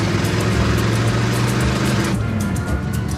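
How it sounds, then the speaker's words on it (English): An old, worn reservation car sits with its engine running, a loud, rough, steady idle close by that keeps going throughout with a slight change in tone partway through. "So this is a res car."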